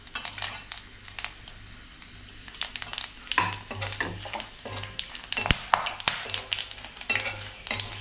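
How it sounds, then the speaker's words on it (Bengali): Cumin and garam masala frying in hot oil for palak paneer, a steady crackling sizzle with stirring and occasional sharp clinks of a utensil against the pan, close and fairly loud, no talk. "এবার আমি জিরা আর এই গরম মশলাটা একসাথেই দিয়ে দেবো"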